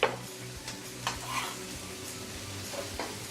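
Garlic sizzles and fries in a wok over medium heat for beef and basil stir-fry, a steady close hiss with a few soft scrapes and clinks of stirring.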